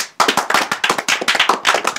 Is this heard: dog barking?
no